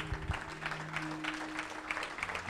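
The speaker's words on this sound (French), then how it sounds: "Pocos aplausos, Très peu d'acclamations." Thin, scattered applause from a church congregation claps on, sparse and fairly quiet, over a low sustained tone in the hall.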